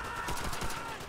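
Gunfire in the World War II shooter game Call of Duty: World at War, a rapid series of overlapping shots like a fusillade, steady and fairly quiet throughout.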